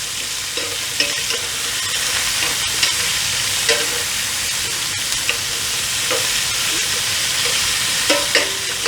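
Sausage, peppers and onions sizzle in olive oil in a pan, a loud steady frying hiss broken by repeated clanks and scrapes as the food is stirred and moved around.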